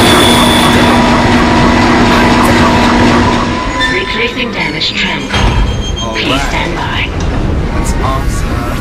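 A tram in the Dead Space video game rumbles and clatters along its rails, with metallic squeals and thuds, while game voices talk over the noise.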